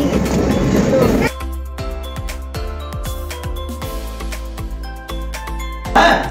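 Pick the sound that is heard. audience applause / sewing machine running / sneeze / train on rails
train on rails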